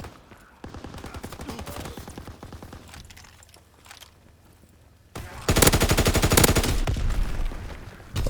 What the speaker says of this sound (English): they're shooting through the walls